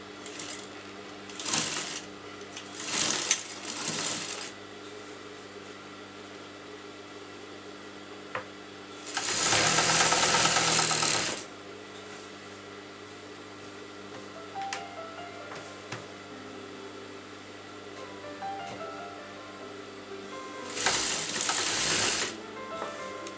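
A sewing machine stitches the sleeves onto a lined kurta in short separate bursts of close, buzzing whir, with quiet pauses between runs and faint handling sounds of fabric.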